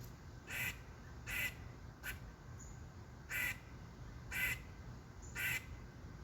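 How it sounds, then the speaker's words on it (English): A duck quacks six times in fairly even bursts, each a short raspy squawk, clear and close with little else around. "Some pretty normal duck noises."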